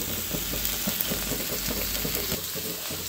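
Fish curry simmers slowly in a clay pot with a steady, close bubbling and gentle sizzle, and a few faint clicks sound under the constant cooking noise.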